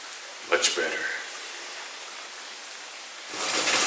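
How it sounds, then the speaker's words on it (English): Steady broadband hiss of rain with a brief voice near the start, the downpour swelling louder toward the end. "Jeez, it's raining hardcore."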